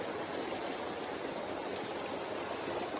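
A river stream, Río Cañas in Naranjito, Puerto Rico, flows steadily with a broad, constant rushing wash of water filling the whole clip, close and even in loudness.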